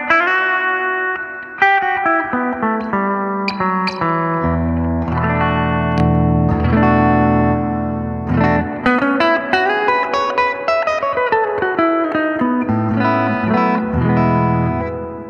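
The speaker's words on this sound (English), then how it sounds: "You got a dwell control for the decay time of the reverb." Fender Pano Verb amplifier with its reverb engaged and the dwell set for a longer decay, a played electric guitar ringing out in sustained chords and single notes with lush, washing reverb tails, loud and continuous.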